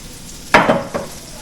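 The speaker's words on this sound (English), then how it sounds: "we're going to get this butter. Just on the pan like that. Let that sizzle up a bit." Butter hitting a hot frying pan while cooking panko-crumbed tailor fish bites, a sudden close sizzle followed by a couple of short crackling bursts that fade quickly.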